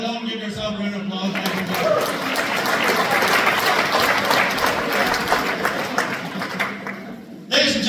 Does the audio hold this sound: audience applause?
yes